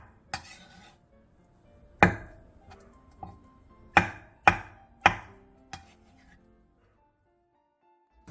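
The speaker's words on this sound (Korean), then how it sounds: "알배추 10장을 3에서 4등분으로 큼직하게 자르고 양파 2분의 1개를 채 썰어주세요." A knife chops napa cabbage, onion, green onion and tofu on a cutting board, with about seven sharp, separate strikes spaced irregularly in an otherwise quiet kitchen.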